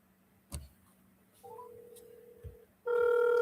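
A phone dials back after a call goes to voicemail during a real estate lead-calling session, with a click and faint ticks followed by rising tones and then a loud, sustained dial tone.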